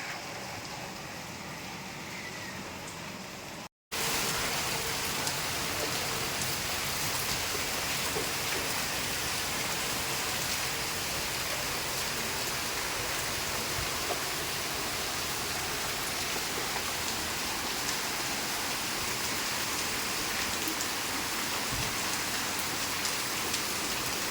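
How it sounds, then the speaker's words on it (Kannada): Rain falls steadily and evenly on surfaces, a dense continuous patter after a brief cut at the start. "ಈಗ ಒಂದು ಸ್ವಲ್ಪ ಮಳೆ ಕಡಿಮೆ ಆಗ್ಯದ್ರಿ"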